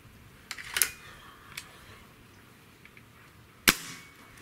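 Two sharp, loud cracks from a .30-caliber air rifle fired through a chronograph, spaced about three seconds apart, with faint clicks between them over a quiet background.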